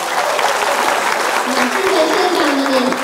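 An audience at an official banquet claps steadily, a full sustained round of applause with voices talking underneath.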